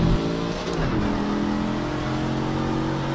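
Race car engine from the Project CARS 3 video game, revving loudly and steadily on a race track, with a sustained roaring drone and a brief pitch sweep near the start; no talk.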